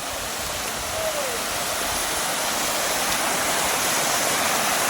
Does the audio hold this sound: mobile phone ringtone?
no